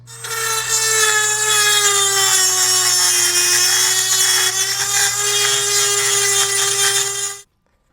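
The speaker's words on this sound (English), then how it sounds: "these holes a bit with a drill" A hand drill bores out and enlarges holes in a metal seat hinge from a Suzuki GS750 motorcycle, a loud, steady high whine with grinding bite running continuously for about seven seconds, then stopping abruptly.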